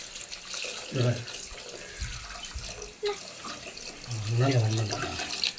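Crushed crab milk and tamarind water poured into a cooking pot for a village-style crab rasam, a splashing liquid pour heard in short bursts up close, with brief handling noises between.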